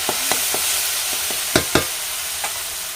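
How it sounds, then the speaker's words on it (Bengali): Gime greens stir-fried in a pan, a steady soft sizzle with several distinct spatula scrapes and knocks against the pan, close and fairly loud, no talking. "ডিমের শাক ভাজা হয়ে গেছে এবারে নামিয়ে দেবো"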